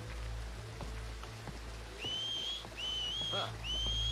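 Whistling in the video game Red Dead Redemption 2: three rising, tuneful whistled calls follow one another in the latter half, heard outdoors over a steady rain-like background hiss and low rumble, with no talk.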